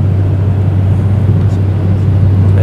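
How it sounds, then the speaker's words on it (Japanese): A loud, steady low roar of an Embraer jet's engine fills the cabin from a seat right beside the engine during a short flight, droning continuously without pause. "やっぱエンブラエル機でしかも今回エンジンの真横ということもあって"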